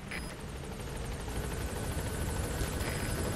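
A helicopter arrives in Metal Gear Solid V: The Phantom Pain, giving a steady, loud rotor and engine drone that holds unbroken from start to end with no talk.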